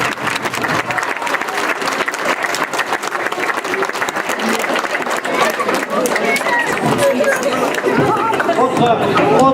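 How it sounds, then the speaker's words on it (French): Dense, steady applause from a large indoor crowd honoring the Vinipolis winegrowers at a youth football club's Christmas party, USO Florensac Pinet. It runs loud and unbroken throughout, with chatter mixed in. "On peut applaudir tous les viticulteurs de Vinipolis"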